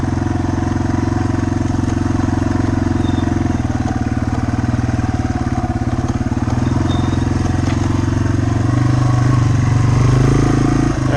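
A Yamaha TW200 motorcycle crawling along a trail in first gear, its low engine thrum steady and close with a loose mechanical clatter, rising slightly near the end.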